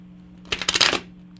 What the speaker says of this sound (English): I'll shuffle up for you here.